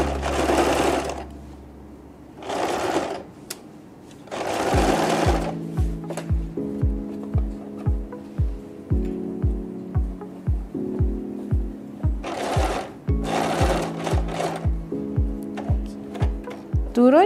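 A domestic sewing machine stitching fabric for a baju kurung runs in short bursts of rapid, even mechanical clatter and hum, stopping and restarting between passes, with a voice speaking in the pauses between runs.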